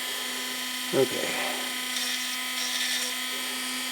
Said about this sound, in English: I try to let the drill do its own work, or the grinder do its own work